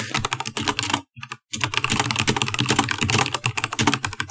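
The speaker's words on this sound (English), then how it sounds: "that was me still typing things down" Rapid clatter of typing on a computer keyboard, dense and close, with a brief pause before the keystrokes resume in a steady rush.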